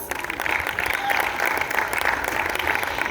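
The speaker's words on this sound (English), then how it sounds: "A big round of applause." Dense, steady applause from an audience of football fans greeting the chairman of Orlando Pirates Football Club, sustained at an even level throughout with no speech over it.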